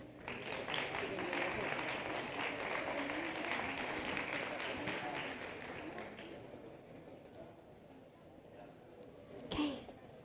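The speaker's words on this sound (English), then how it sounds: "Let's give them a round of applause." Crowd applause on a conference stage at a startup summit, loud sustained clapping that fades out after about six seconds, leaving a quieter room with a brief bump of sound near the end.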